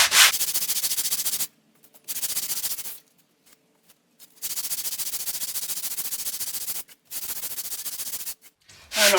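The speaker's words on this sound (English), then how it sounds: "introduce a bit of elbow grease and sand that down to its flat" Wooden bookmark sanded flat by hand with sandpaper, steady close scraping strokes in long bursts separated by short pauses.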